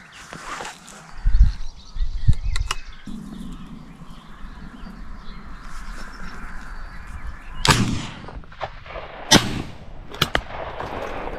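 Shotgun blasts ring out during crow control shooting outdoors, a few sharp reports spaced several seconds apart with crows cawing and wind noise in between.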